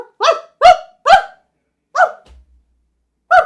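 A dog barks loudly and close by in a series of five sharp barks, three quick ones in a row, then a pause, one more, and a final bark after a longer gap.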